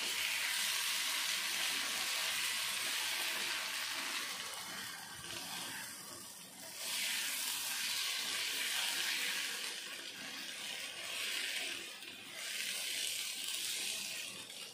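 Melted sago pearls stirred in a pan while making sago laddu: a continuous wet, sizzling hiss that swells and fades in broad waves as the spoon moves, close and fairly quiet, with no talk.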